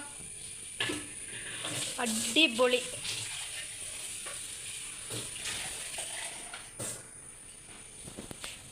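Fish curry with tomatoes and ground coconut simmers in a pan with a steady soft bubbling and sizzling hiss, plus a few brief clinks, while a person talks over it.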